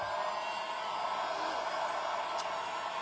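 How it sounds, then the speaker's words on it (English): A hair dryer blows steadily on a craft kit, a continuous close airy whoosh that lasts about three seconds with no talking. "we're going to dry this"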